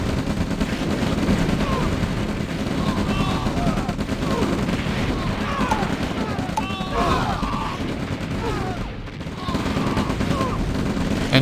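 Artillery fire in the real-time strategy game OpenRA Red Alert: a continuous dense barrage of overlapping gunfire and booming shell impacts, loud and steady throughout, with whistling projectile sounds over the top.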